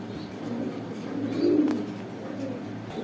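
Pigeons coo softly at a pigeon sale for racer and exhibition birds, a low, faint murmuring that rises briefly in the middle over quiet background noise.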